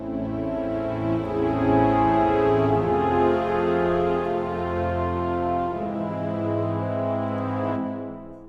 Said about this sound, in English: you have the brass and the strings play the chords.